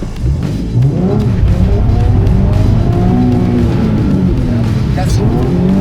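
A race car accelerates loudly with a roaring engine and a rising tire squeal, close and continuous, while people talk over it.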